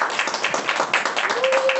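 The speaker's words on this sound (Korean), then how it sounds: "박수로 환영해 주시고" Audience clapping to welcome a pastor at a church seminar, a steady patter of many hands filling the short span at moderate level, with a faint voice underneath.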